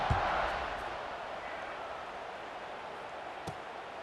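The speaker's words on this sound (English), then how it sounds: "this crowd now ready to get behind them" Steady, broad crowd roar fills a stadium in the College Football 26 video game as a Boise State dynasty matchup is set for kickoff, with a sharp burst at the start and announcer commentary running over it.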